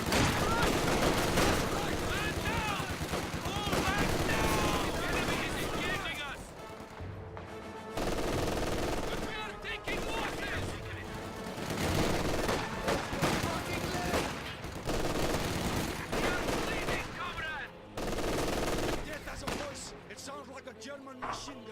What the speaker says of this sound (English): German machine gun.